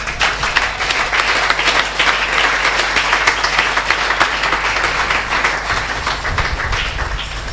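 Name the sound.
congregation applauding and cheering the sermon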